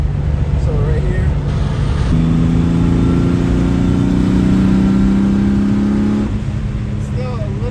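A turbocharged BMW E30 with an M50 engine drones steadily under light throttle while driving, with engine and road noise filling the cabin and a voice talking over it.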